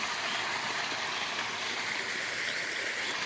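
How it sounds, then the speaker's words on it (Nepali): Water pours from a pumpset pipe into a village pond choked with water hyacinth, making a continuous, even rushing splash that is close and moderately loud. "एकदम यसरी पानी पम्पसेटबाट लागिरहेको छ"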